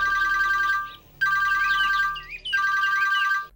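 A telephone ringtone in a Bhojpuri film scene rings loudly in three repeated electronic bursts separated by short gaps, with no voices over it.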